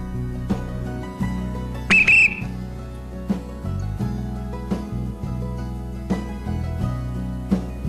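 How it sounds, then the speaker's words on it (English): A single short, shrill whistle blast, blown before a hang glider launch at Torrey Pines to warn radio-control model flyers, rings out once above steady wind and background sound. "Let's blow our whistle to alert the RCers."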